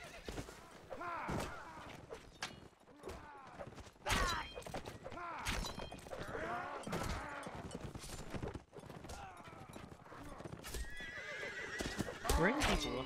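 Horses neigh and whinny repeatedly over thudding hoofbeats and clanking, busy and close, with someone talking throughout.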